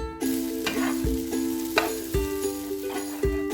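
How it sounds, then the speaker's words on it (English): Garlic and onion sizzle in a hot pan as they are stir-fried, a steady close hiss broken by regular scraping strokes of the spatula. "and onion, and you can stir fry until wither and smell good."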